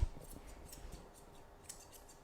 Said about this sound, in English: I'm just trimming any hairs that are outside of those lines, just so it looks neat and tidy